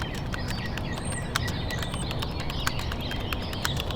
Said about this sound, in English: Let's start by focusing on the sound of the birds